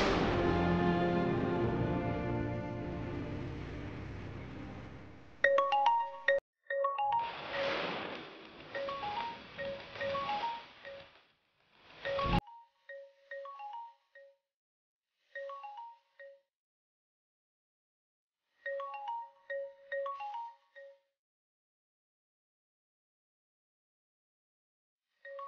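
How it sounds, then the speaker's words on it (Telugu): A phone ringtone for an incoming call plays short repeating melodic phrases with gaps between them, following a louder musical passage that stops abruptly. "సీతకు మధుమిత కాల్ చేస్తోందేంటి?"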